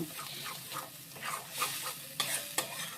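A spinach and tomato paste is stirred into a tempering of hot oil and ghee. The sizzle is loud and continuous, with the rhythmic scrape and stir of a spatula against the pan and no voices.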